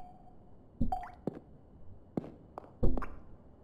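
Water drips in a horror video game, a few sharp plops scattered irregularly over low ambient hum, each drop distinct and fairly close.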